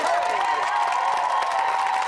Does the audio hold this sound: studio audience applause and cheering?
yes